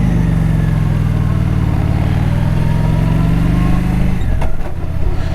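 A motorcycle engine runs steadily and loudly close by while riding, with a constant droning hum and a brief rattling disturbance near the end.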